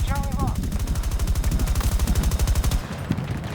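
Rapid automatic gunfire in Battlefield 2042, a fast, even burst of loud shots lasting nearly three seconds, close and dominant, then cutting off abruptly with a voice heard briefly at the start.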